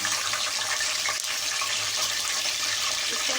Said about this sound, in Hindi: उसमें ऑयल गरम कर लिया है। इसमें मैं गोश्त डाल दूंगी। हड्डी वाला गोश्त लिया है मैंने।